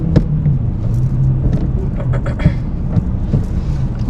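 A car engine hums low and steady from inside the cabin while the vehicle reverses into a parking space during a driving lesson, with a faint muffled rumble throughout.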